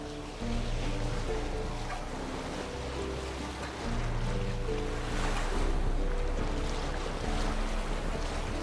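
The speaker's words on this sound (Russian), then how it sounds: "у тебя парус хлопает" A boat's sail flapping in the wind in the Witcher 3 video game, a loud, continuous rush of wind and waves with bursts of flapping canvas and a low background hum, without talk.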